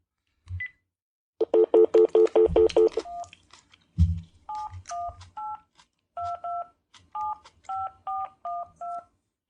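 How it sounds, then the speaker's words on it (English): Telephone keypad tones from dialing a random number: a fast run of about eight beeps, then after a pause a steady series of separate dual-tone key presses, loud and close, with low bumps and handling noise between them. "Just dial any number."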